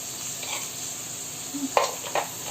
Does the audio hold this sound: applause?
no